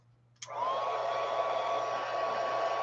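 A heat gun switches on with a click and blows a steady, loud rush of hot air with a faint whine, drying paint on a Christmas journal page, continuous and close with no talk.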